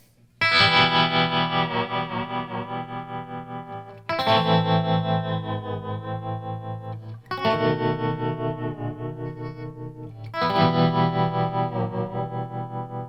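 Electric guitar plays four strummed phrases with a pulsing tremolo wobble and wash of reverb, each chord ringing out before the next.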